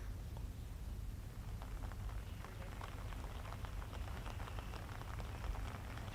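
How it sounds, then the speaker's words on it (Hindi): Steady rain falling in Bhopal, a dense continuous hiss of drops striking surfaces, even and unbroken throughout with no talk or thunder. "सुबह से ही जो बारिश का सिलसिला है वो लगातार जारी है"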